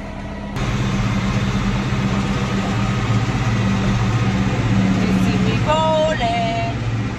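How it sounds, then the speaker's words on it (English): A tractor engine runs steadily and loudly throughout, with a continuous low rumble and a few higher tonal squeals near the end. "Oh, look at me. Tractor driving."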